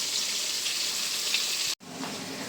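Fish fries in hot oil, giving a steady, dense sizzle that runs on evenly, breaks off in a brief gap near the end, then resumes slightly quieter.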